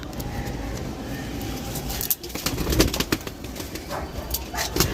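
Pigeons coo softly against a constant outdoor hum, with a few brief wing flutters and clicks nearby.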